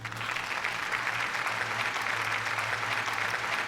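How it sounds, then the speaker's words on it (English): Applause over a steady low hum, a continuous even wash of clapping with no voices. "So a big round of applause"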